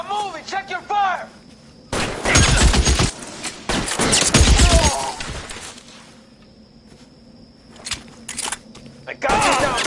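Heavy gunfire in the L.A. Noire video game: loud bursts of rapid shots with crashing impacts, pausing between volleys and then resuming close and intense, while voices are heard.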